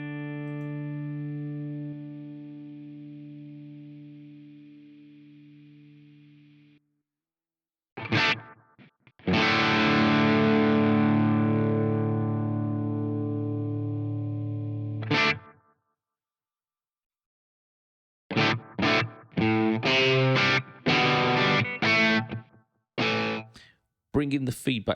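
Electric guitar played through an analog delay on a Line 6 HX Stomp, set with low feedback and few repeats to mimic spring reverb; a held chord rings out, then a strummed chord sustains and decays, followed by several short choppy stabs.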